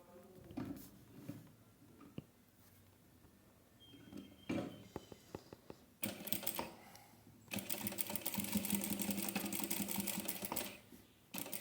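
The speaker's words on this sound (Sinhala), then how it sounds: "මෙතනින් කෙලින් මැහුමක් දාගන්න අඟල් භාගයක මැහුම් වාසයක් තියලා මහ ගන්න" A sewing machine runs a straight seam along the waistband of a wraparound skirt, with quiet handling at first, then longer loud steady bursts of fast stitching near the end.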